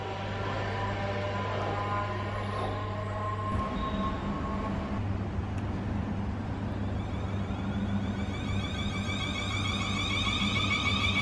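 A train rumbles steadily nearby with a low droning hum and rising metallic whine, continuous throughout without voices, at Winchester on the line to Waterloo.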